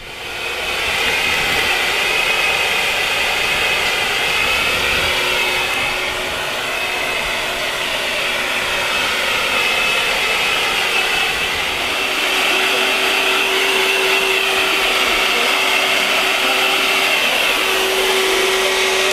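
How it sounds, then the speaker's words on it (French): A hair dryer blows loudly and steadily nearby, blowing ashes off mussels, a constant whooshing roar with a slight whine that shifts a little in pitch throughout. "on va utiliser en fait un sèche-cheveux pour enlever toutes les cendres"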